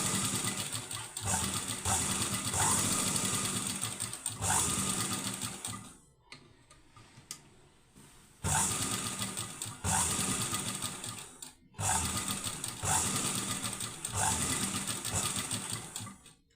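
A sewing machine stitches a leaf neck blouse in fast, close bursts of rapid clatter, stopping twice briefly while someone speaks quietly in the pauses.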